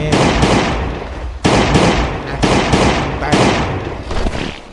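Gunfire in the mobile survival game Last Day On Earth: Survival: four or five loud, sharp shots spaced about a second apart, each followed by a short decaying tail.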